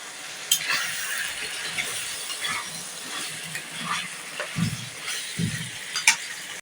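Prawns being stirred into a pan of fried spiced masala for egg and prawn biryani, giving a soft steady sizzle with scraping stir strokes and light clinks of a utensil, close and moderately quiet.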